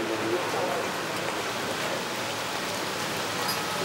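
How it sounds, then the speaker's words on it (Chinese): Steady rain falling on a street lined with morning-drinking spots in Yingcheng, Hubei, a continuous soft hiss of drops on pavement with no clear voices. "因为今天下雨，所以出来的人不是特别多"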